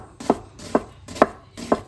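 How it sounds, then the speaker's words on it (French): Onion being finely chopped with a very sharp knife on a board: four crisp, evenly spaced knife strikes close up, with quiet gaps between them. "on va ciseler l'oignon assez fin"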